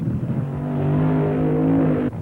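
A supercharged 2,000-horsepower Top Fuel dragster engine roars with a steady, loud drone and a rising tone, then cuts off abruptly near the end; no one talks.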